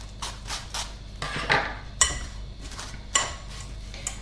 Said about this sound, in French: je vais secouer le tout pour bien répartir la marinade sur les pommes de terre